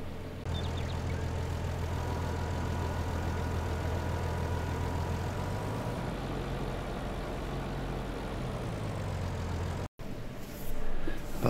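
A heavy tractor engine in a farming simulator runs steadily at a low, droning idle throughout, with a brief cutout near the end before the engine note returns slightly louder.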